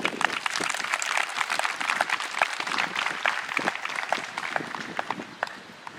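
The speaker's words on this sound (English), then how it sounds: "I'd like to give Commander Gallagher a nice round of applause" An outdoor crowd at a Memorial Day ceremony applauds a commander, dense scattered clapping that continues steadily before fading slightly at the close.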